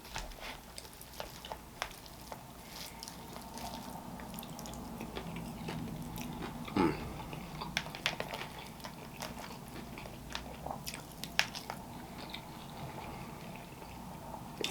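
Someone bites and chews Peruvian lomo saltado steak with rice at a restaurant, making soft, close, intermittent moist chewing and crunching sounds over a quiet room background.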